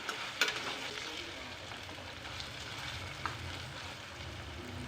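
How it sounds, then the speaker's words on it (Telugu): Ginger paste frying and being stirred in a pan, a steady soft sizzle with a few light clinks of the spoon, fairly quiet and continuous with no talking. "ఇందులో అల్లం పేస్ట్ ఒక స్పూన్ వేసి పచ్చివాసన పోయే వరకు ఫ్రై చేయాలండి ఒక నిమిషం పాటు"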